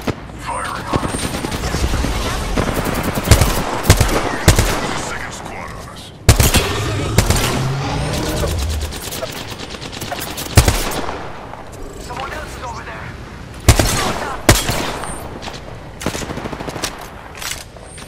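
Loud bursts of automatic gunfire in the Apex Legends battle royale shooter, rapid rattling volleys broken by short pauses and sharp single cracks, with voices talking over the combat.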